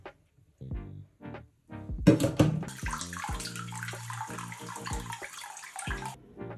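Water pours out of a container of rinsed seeds after a hydrogen peroxide soak, a sudden close splash and trickle lasting several seconds amid a few clinks and taps.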